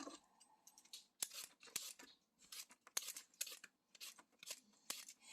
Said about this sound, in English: now it's time to peel our potatoes